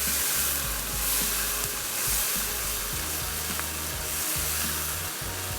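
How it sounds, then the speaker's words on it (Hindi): Masala sizzles and fries loudly in hot oil in a pan, a dense continuous crackle with low scraping stirs throughout, close and without talking. "ये मसाला अच्छे से भुन गया है, ऑयल भी अलग हो चुका है"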